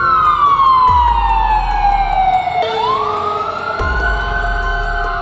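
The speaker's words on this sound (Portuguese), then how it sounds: "pra velocidade que eles estão e a sirene ligada, deve ter acontecido alguma coisa" A speeding emergency vehicle on a Los Angeles street blares a loud wailing siren as it passes close by, its pitch sweeping down and back up over rumbling road noise.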